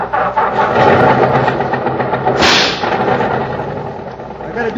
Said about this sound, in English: something about that ping in the engine.